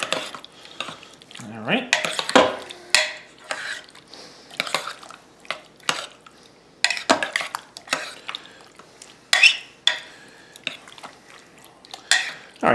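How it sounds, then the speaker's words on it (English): A spoon scrapes and clinks against a pot while mixing shredded cheese and salsa for queso, irregular knocks and stirring scrapes in bursts, close and clear, with a brief spoken remark. "Just to start, mix up the cheese and the salsa together"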